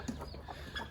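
Chickens cluck on a poultry farm in short, soft, scattered calls, faint and close together over a low background hum with no voices.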